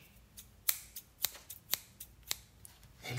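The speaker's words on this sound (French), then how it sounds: "Elle coupe la toile" Scissors snip cloth in a series of sharp, crisp cuts, about five spaced clicks at a steady pace, close and clear against quiet.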